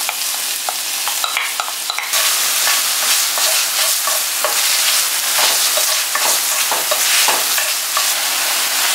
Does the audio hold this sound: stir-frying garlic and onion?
yes